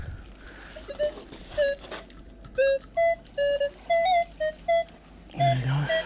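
Metal detector on a beach at the foot of a cliff in Newquay, giving a run of clear electronic beeps that rise and fall in pitch in short tones, close and loud over faint wind.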